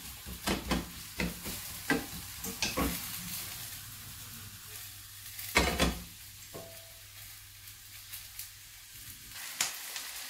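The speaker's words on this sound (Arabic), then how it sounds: "من بعد ما تشحرات شويه البصله" Chopped onion sizzles steadily in a hot frying pan, browning lightly, broken by repeated scraping and clattering bursts of stirring throughout.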